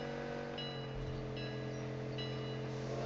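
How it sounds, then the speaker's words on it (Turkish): A train rolling past in the PUBG Mobile battle royale game, a steady low rumble and wheel drone holding throughout with faint high squeals recurring, fairly loud and continuous with no talk. "Tren de geliyor."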